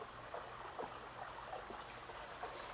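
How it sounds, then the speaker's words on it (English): Faint, steady trickling and lapping of water from a backyard swimming pool, set under a roofed patio in St. Johns, Florida, with a soft continuous wash and no voices. "just enjoy the sounds of the swimming pool"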